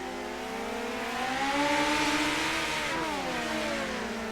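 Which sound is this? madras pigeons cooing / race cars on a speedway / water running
race cars on a speedway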